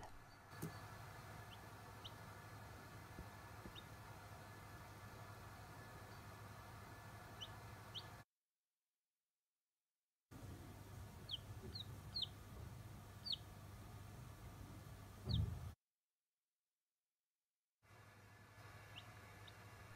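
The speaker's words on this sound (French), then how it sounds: "on peut tendre l'oreille et entendre le poussin qui fait des petits piou-piou" A chick peeping inside its egg while hatching in a homemade incubator: several short, faint high chirps scattered over a low steady hum, broken by two gaps of silence.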